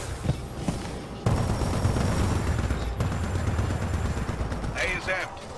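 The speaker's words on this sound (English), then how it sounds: "Splitter rifle armed." Rapid, dense bursts of Splitter rifle fire in Titanfall 2 crackle loudly and up close, sustained for several seconds, with a short voice line near the end.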